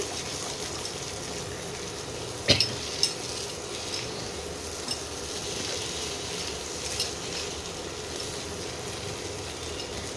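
A dry garam masala and lotte fish cutlet mixture is stirred in a frying pan, giving a quiet, continuous scraping hiss with a few sharp utensil clicks against the pan.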